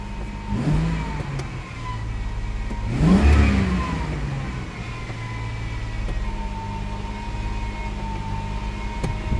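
A car engine hums at a steady high idle stuck around 2,000 RPM, with two brief revs swelling up and falling back, heard up close with no talking.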